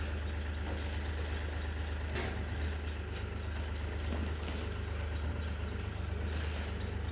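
Newly delivered Kubota tractor engine idling on a farm, a low, steady rumble running evenly throughout at moderate distance with faint scattered background noises.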